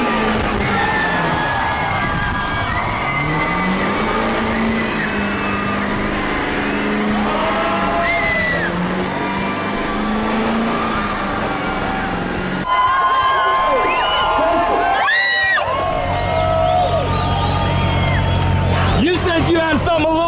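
A car doing a burnout at a burnout contest: a loud, sustained engine roar and tire screech, with a shift to a deeper, harsher roar partway through, under constant crowd cheering, whooping and babble, with people talking close by.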